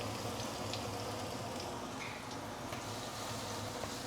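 Shallot and garlic fry in heated oil for Maggi mee goreng, a continuous dense crackle and bubbling sizzle, close and fairly soft, with no voices.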